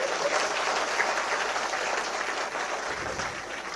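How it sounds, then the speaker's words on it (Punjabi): An audience at a political speech breaks into sustained applause, a dense, steady clatter of many hands clapping together at close range for the whole stretch, with no break. "ਜੇ ਸਹੀ ਹੈ ਤਾੜੀ ਮਾਰ ਦਿਓ ਨਹੀਂ ਤਾਂ ਨਾ ਮਾਰ"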